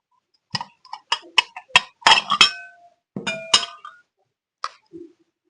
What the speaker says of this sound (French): Je vais mettre dans les assiettes de mes enfants.